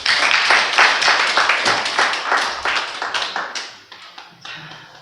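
A crowd at a Korean church revival gathering in a hall applauds to welcome a pastor, with loud, dense clapping that thins and fades over the last seconds.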